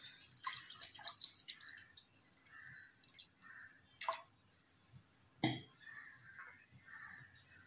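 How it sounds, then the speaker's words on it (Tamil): Soaking water from chickpeas poured into a pressure cooker, heard as quiet, intermittent splashes and drips with short pauses between them. "கூடவே நம்ம ஊற வச்ச தண்ணியும் இதில் ஆட் பண்ணிக்கலாம்."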